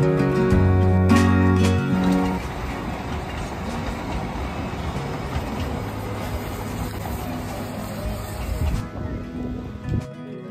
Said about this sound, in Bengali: এখন যাবে বাতাসিয়া লুপের ওপর দিয়ে টয় ট্রেন,